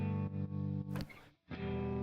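Distorted electric guitar double-tracked and panned hard left and right, sustained chords in short bursts broken by a brief pick-scrape and a near-silent gap before the chord returns.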